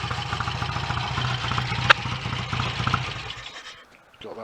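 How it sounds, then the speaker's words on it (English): A BSA A65 motorcycle twin, a single-carburettor Bandit/Fury type, ticks over at a steady slow idle up close, a continuous low throbbing pulse with a brief sharp click midway before it cuts out near the end. "Got that nice steady slow tick over that they're almost famed for, these things"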